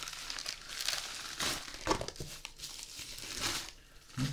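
Bubble wrap packaging crinkling and rustling while a Colmi P8 smartwatch from Aliexpress is unboxed, a close, fairly quiet series of irregular crackling crumples and tearing bursts with no talk.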